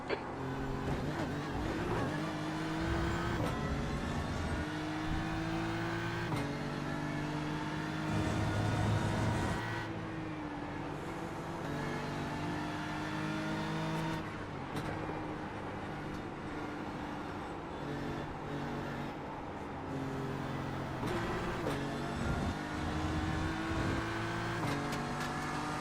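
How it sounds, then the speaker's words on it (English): GT3 race car engines in a racing simulation, one leaving the pits, a continuous buzzing engine tone with shifting pitch as gears change, fairly quiet with occasional surges. "There's a car leaving the pits."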